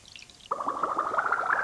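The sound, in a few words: water being poured onto a tulip in an animation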